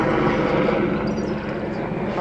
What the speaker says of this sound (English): just wait for the helicopter to go.